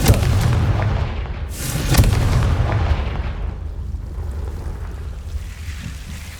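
A Confringo fire spell explodes in Hogwarts Legacy, with a loud booming blast and a second burst around two seconds, followed by a long rumbling decay and low roar that slowly fades.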